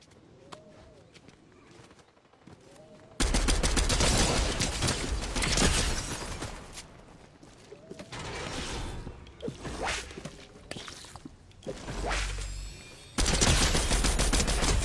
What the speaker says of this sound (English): I can't hit shit with this fucking gun